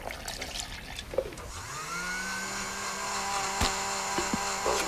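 A blender motor spins up and runs steadily, blending milk with breakfast sausage, a close, continuous whirring hum with a few brief clatters from the jar, no voices.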